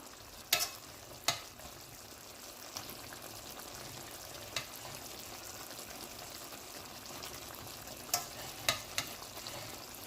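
Pasta is stirred into a cheesy jerk shrimp sauce in a pan. A low, steady sizzle runs underneath, and a handful of sharp utensil scrapes and clinks land at irregular intervals, close up and with no voices.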